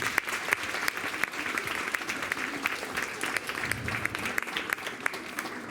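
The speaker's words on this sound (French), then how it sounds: "On peut l'applaudir." An audience at a school certificate ceremony claps for a pupil, a moderate, fairly sparse round of applause with individual hand claps standing out and a brief murmur of voices partway through.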